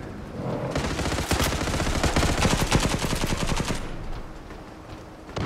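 Rapid automatic gunfire from the Turkish-made online shooter Zula, a dense burst of shots lasting a few seconds, loud and close, then trailing off into quieter game ambience with no talking.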